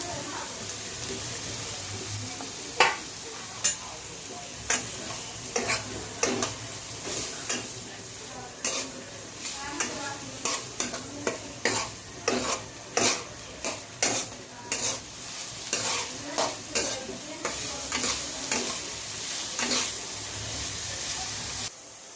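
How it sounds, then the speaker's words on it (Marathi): Onion fries in oil for an egg masala with a constant sizzle, while a spoon stirs and scrapes the pan in quick rhythmic strokes that grow regular in the second half. "तर आपण आता चांगला तेलामध्ये चांगला लाल होईपर्यंत चांगला कांदा परतायचा"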